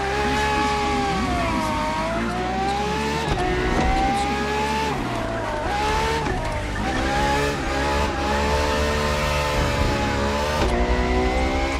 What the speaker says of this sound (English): There, for this second lap, you'll be driving the FXXK.